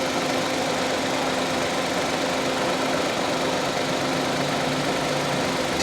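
A 1000cc Suzuki Cultus engine idles at a steady, even drone with a low hum and a constant fan whir, unbroken and close for several seconds with no talking.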